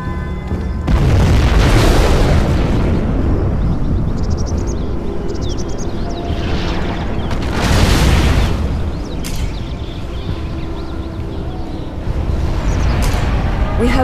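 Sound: nuclear missile explosion in a video game

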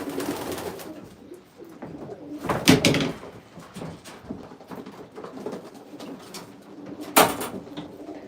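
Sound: pigeons cooing

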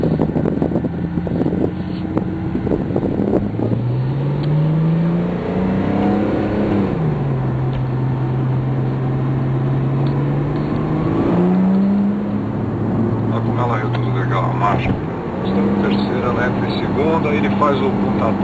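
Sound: Porsche 911 Turbo 2010 engine revving while accelerating

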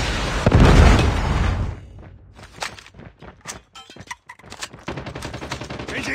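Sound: Predator missile explosion and gunfire in COD Mobile video game

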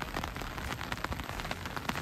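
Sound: rain falling on a jungle campsite

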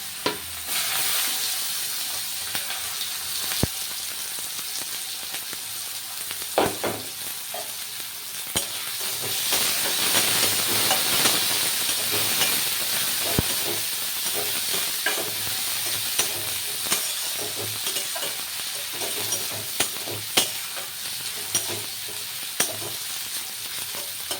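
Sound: onions frying in pan

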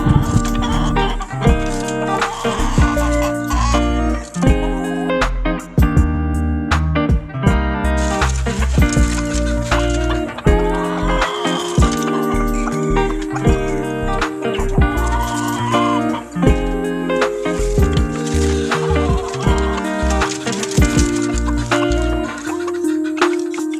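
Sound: hens and chicks clucking on a backyard farm

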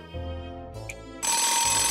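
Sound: telephone ringing in the video game Nights of Azure

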